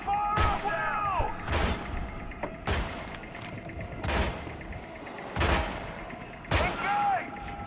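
Gunfire erupts in the Hitman video game during a firefight, with heavy reports arriving every second or so over constant background noise and game music, while voices call out in between.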